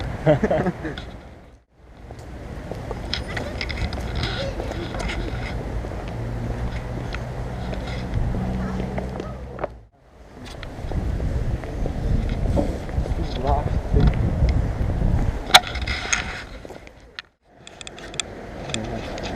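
Gusty wind buffets the microphone outdoors at the Prague congress centre in the early morning, a loud, rumbling roar with brief lulls between strong gusts.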